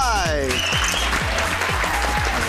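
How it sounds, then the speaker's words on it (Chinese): A studio crowd applauds to welcome a guest on a Taiwanese video game TV show featuring the RB rhythm arcade game. The steady clapping is mixed with a thumping music beat, and a voice is heard briefly at the start. "掌声欢迎温泰。"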